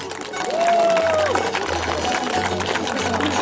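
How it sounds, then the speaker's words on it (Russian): A crowd applauds and cheers at an outdoor hunters' festival, a dense steady burst of clapping with a whistle-like tone rising over it early on. "давайте же встретим их не менее бурными аплодисментами"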